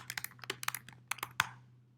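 Light, quick keystrokes on a computer keyboard in short irregular bursts, close and fairly soft over a faint steady hum, trailing off into quiet.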